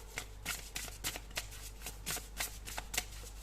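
Tarot cards are riffled and shuffled by hand in a quiet room, a run of quick crisp flutters coming in about ten bursts, close and fairly soft.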